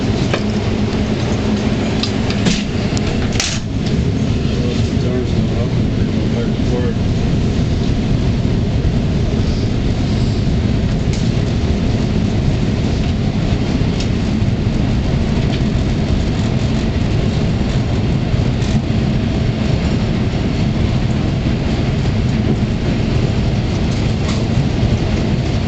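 A private charter train, the Snowflake Special in the Loop, rumbles along steadily with a loud continuous roar of wheels and motors, a few brief clanks and knocks, no talking.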